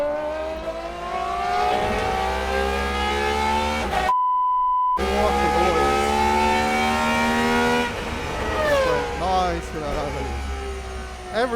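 A Gordon Murray GMA T.50s with its V12 engine revs hard and loud up close, the rising and falling harmonic wail climbing through several pulls, broken by a brief silent gap and a high beep.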